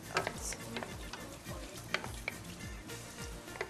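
Onion fries in olive oil in a pot with a steady, close sizzle, while a spoon stirs it in repeated scraping and clinking strokes.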